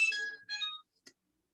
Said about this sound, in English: 1 minute, some phone call is there.